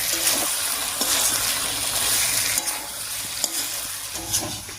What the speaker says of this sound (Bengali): এবার এর মধ্যে দেবো কয়েকটা চেরা কাঁচা লঙ্কা, একটু নাড়িয়ে নিচ্ছি